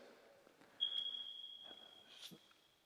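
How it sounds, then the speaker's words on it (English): A building's fire alarm goes off in a steady, piercing high electronic tone that holds for about two seconds, fairly loud indoors over faint room noise and a few small knocks. "I think that's one of the fire alarms going off."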